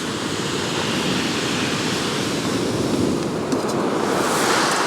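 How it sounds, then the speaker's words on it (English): Heavy surf pounds a shingle beach at Chesil, a loud, continuous roar of breaking waves and spray with wind buffeting the microphone throughout, while beach fishing. "I can't get any water because the surf's too big"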